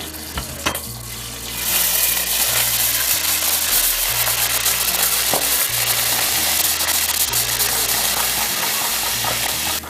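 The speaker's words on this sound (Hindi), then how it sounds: "उसमें अब जिंजर और गार्लिक पेस्ट डालकर 1 टेबल स्पून इसको फ्राई कर लेना" A tablespoon of ginger and garlic paste hits browned oil in a pan for a fish head curry and sizzles loudly and steadily, with a few clatters of stirring near the start.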